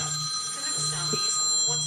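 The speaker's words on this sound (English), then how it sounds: "And there goes the phone." A telephone rings in a home garage, its steady electronic ring repeating in short bursts at close range while a voice talks over it.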